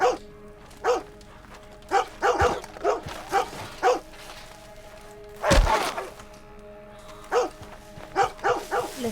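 A dog in Red Dead Redemption 2 gives a string of short barks and yips at irregular intervals, fairly close, with one louder yelp partway through and no talk over it.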